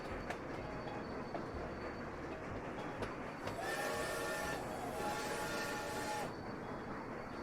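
Trains run on a railway in the video game Sweet Transit: a steady rumble of rolling wagons with a few sharp clicks, and a higher whistle-like tone that swells midway and cuts off, with no talking.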